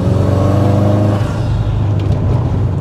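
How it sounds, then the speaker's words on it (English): A 350 bhp Subaru Forester STI SG9 wagon's engine drones loudly under throttle, then the note falls away as the throttle is released, leaving a rumbling coast with faint hissy bursts that may be the dump valve. "You can ever so slightly hear that dump valve letting off as well as soon as you back off the throttle."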